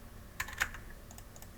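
Typing on a computer keyboard during coding setup work, a few scattered key clicks over about two seconds with a sharper, louder keystroke at the end, fairly close and alone without talk.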